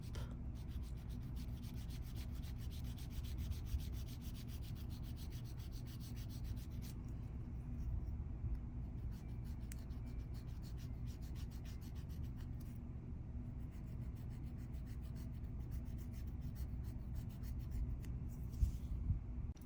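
An extra fine grit nail file rubs across a toenail edge in quick, close, soft strokes, a steady light scratching that runs on without pause under near silence.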